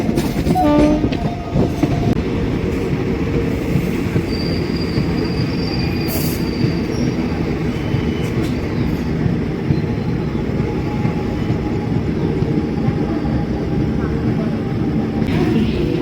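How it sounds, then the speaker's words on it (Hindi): Gomti Sagar Express 16094 passenger train rolling slowly through Unnao Junction, with continuous rumble and wheel noise, squealing wheels on the rails, a brief high horn-like tone and rhythmic clatter, heard close and steady. "ट्रेन को उन्नाव जंक्शन रेलवे स्टेशन से सिग्नल मिल गया है और ट्रेन बहुत धीमी गति से उन्नाव जंक्शन को स्किप कर रही है।"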